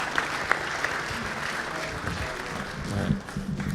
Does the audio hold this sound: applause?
yes